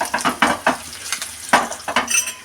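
Katla fish kofta balls fry in oil with sizzling and repeated scraping and clinks of a utensil turning them in the pan, close and fairly loud in uneven bursts.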